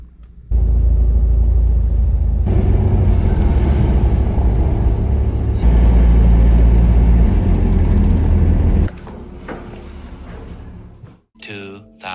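A car rolls onto a ferry: a loud, steady low rumble of engine and road noise for several seconds, then it drops to a quieter hum, with brief clatter near the end.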